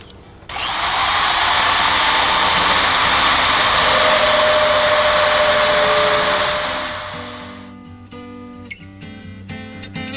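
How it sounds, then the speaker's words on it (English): A power drill bores screw holes straight through a door for a pet door install, whining loud and steady for about seven seconds before spinning down, followed by light clatter and handling noises. "drill the screw holes through the door at the marked spots"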